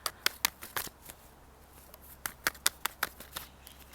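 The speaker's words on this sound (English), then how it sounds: "I'm going to shuffle one more time" Tarot cards being shuffled by hand, crisp riffling snaps in quick bursts close to the mic, pausing briefly before another run of sharp card flicks.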